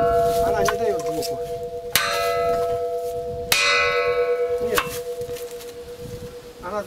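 Several loud strikes on different bells at an outdoor prayer site, each ringing out with long metallic overtones, spaced irregularly over a steady background hum.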